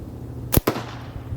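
A slingshot looses two sharp snapping shots in quick succession, close and loud, with nothing else audible around them.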